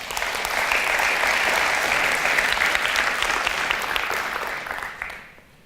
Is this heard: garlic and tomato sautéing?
no